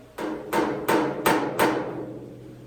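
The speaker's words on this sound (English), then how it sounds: "So that crease is coming over this way, and I'm gonna just tap it down, getting everything ready for putty." A hammer taps down a crease on a 1957 Chevy hood during bodywork, giving five sharp metallic blows at a steady, slightly uneven rhythm, close and loud, each ringing briefly before fading.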